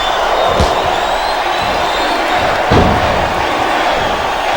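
A packed arena crowd roars continuously in WWE Smackdown vs Raw 2008, a dense steady wash of cheering broken by two heavy slam thuds.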